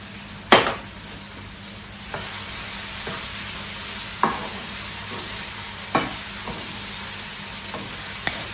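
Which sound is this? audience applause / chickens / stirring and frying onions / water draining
stirring and frying onions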